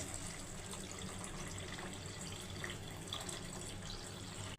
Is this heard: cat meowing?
no